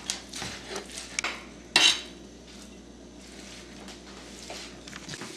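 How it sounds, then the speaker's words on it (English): A knife coarsely chops cooked meat on a board, giving a few irregular sharp knocks and scrapes, one louder clack near the middle, then quieter scraping and no talk. "Give this a really coarse chop."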